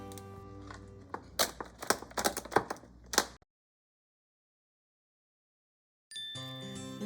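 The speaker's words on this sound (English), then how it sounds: "I'm going to cut it into 3 pieces on each side" A knife chops through a crab on a board for Thai crab curry, a quick run of sharp cracking cuts over about two seconds, then silence before other kitchen sounds resume.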